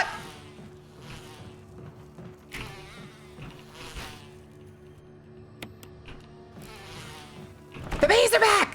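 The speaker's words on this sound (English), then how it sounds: "The bees are back!" Bees buzzing in a horror video game, a faint steady hum with droning tones, broken by short bursts of noise and a loud burst at the end.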